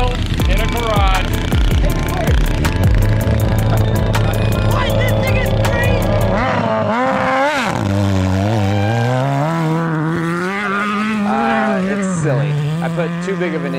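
A home-built garage cross kart with a 145-horsepower 1994 ZX11 engine runs loud and close: a rough idle revs up, then sustained howling throttle with the pitch swinging up and down, while people talk over it.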